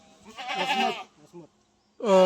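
Close Katewadi goat bleats, a wavering cry followed after a pause by another sharp bleat, with people talking nearby.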